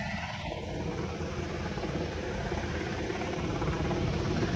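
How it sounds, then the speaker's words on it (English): A helicopter comes in to land during Hurricane Milton, its continuous, loud rotor and engine roar filling every moment without a break. "So this helicopter comes in"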